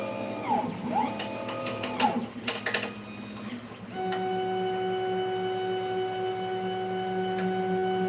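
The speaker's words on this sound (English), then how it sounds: "I don't know what that clackling sound is. It's the extruder or not." A Tevo Tornado 3D printer's extruder clacks in a few sharp bursts, then settles into a steady mechanical hum with a sustained tone, close and fairly loud.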